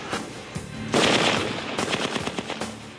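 Rifle gunfire during a Security Forces combat rifle test, sharp shots in quick bursts and irregular volleys, loud and close with echoing tails over three seconds.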